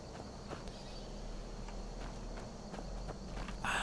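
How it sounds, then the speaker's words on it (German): Hooves of a horse in the game Skyrim clop at a walking pace, a slow irregular series of soft thuds over a low ambient rumble, fairly close. "Oh, guck mal, ein schönes Pferd."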